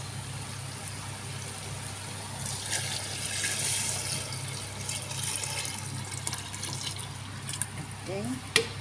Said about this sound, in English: Lagay na tayo ng water.